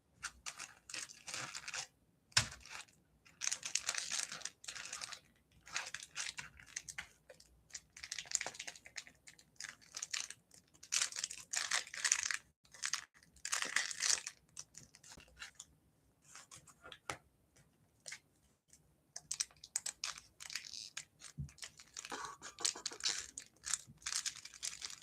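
Yu-Gi-Oh booster packs and Blazing Dominion boxes are torn and opened up close, with bursts of crinkling foil and rustling cardboard in an irregular, busy stream and brief quiet gaps between handling sounds.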